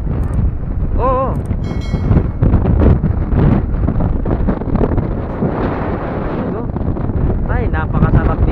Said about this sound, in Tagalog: Ay, napakasarap dito, napakalamig. Ang hangin-hangin pa.